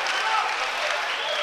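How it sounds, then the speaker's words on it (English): Spectators at a heavyweight kickboxing bout in Moldova breaking into a short burst of applause after a strike, broad clapping and crowd noise lasting about a second and a half behind commentary. "Crowd appreciating every good strike."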